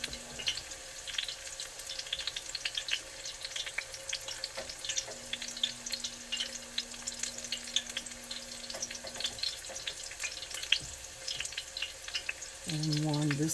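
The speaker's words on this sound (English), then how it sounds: "You can hear that frying up." Steady sizzling of chicken frying in hot oil, a constant crackle throughout with occasional light clinks, fairly close.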